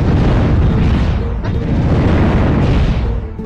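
Heavy rumbling explosions from the steampunk video game Steambot Chronicles roll on without a break, loud and close, with a booming low end and a few sharper bursts mixed in.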